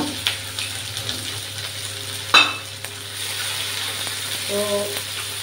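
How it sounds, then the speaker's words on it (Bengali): Chopped onions frying in a pan, a close steady sizzle broken by sharp clinks and scrapes of a stirring spoon, with a faint voice briefly in the background. "তো পেঁয়াজটা একটু ভাজি"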